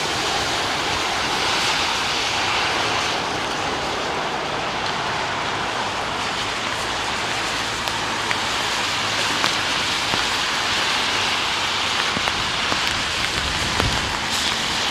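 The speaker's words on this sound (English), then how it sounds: "it is raining at the moment" Steady rain falls at Heathrow airport as a continuous, even hiss that fills the scene without a break, with no voices.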